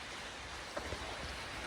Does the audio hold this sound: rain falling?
yes